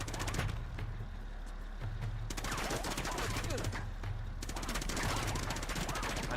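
Sustained automatic fire from a .30 cal machine gun in the video game Uncharted, dense rapid bursts rattling continuously and loudly, with brief changes in intensity.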